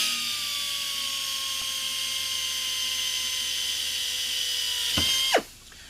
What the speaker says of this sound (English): Now we can remove the bracket and drill through the bracket.